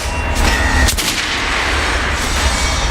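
Gunfire at a shooting range in Metro Last Light, with a couple of sharp reports over a dense, booming low rumble, loud and close throughout.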